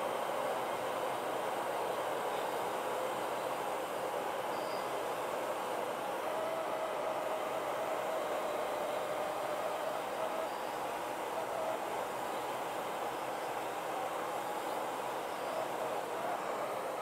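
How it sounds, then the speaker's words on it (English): A shop vacuum runs during pen turning in a woodworking shop, giving a steady, even whooshing drone that holds at constant level throughout. "I didn't turn the vacuum back on."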